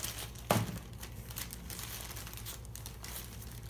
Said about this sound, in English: Place it in the plastic bag